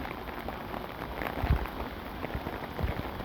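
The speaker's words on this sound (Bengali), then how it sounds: "উঠানেও বৃষ্টি হচ্ছে" Rain falling on the courtyard of a village house, a soft steady patter of drops with a few louder close hits on a nearby surface, fairly quiet and with no speech.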